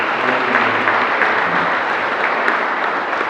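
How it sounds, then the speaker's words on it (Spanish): Sustained applause from a church congregation at a Christmas Eve mass, dense and loud with many hands clapping steadily throughout. "Dani, un aplauso famoso."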